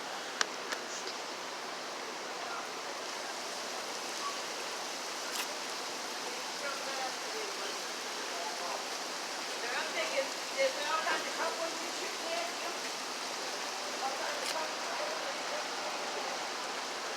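Water from a broken water main on Comm Ave rushes and splashes steadily in a broad, continuous hiss, moderately close, with brief louder spatters and faint background sounds throughout.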